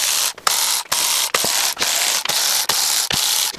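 A ratchet wrench loosens the valve cover bolts on a car engine, its pawl rasping through about eight even back-and-forth strokes, loud and close with no talk.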